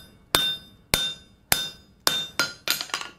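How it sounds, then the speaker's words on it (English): Hot steel being hammered on an anvil to forge a concave butcher knife, seven sharp ringing metallic strikes, evenly spaced at first and then quicker, loud and close with no talk. "You want to take and hammer on this"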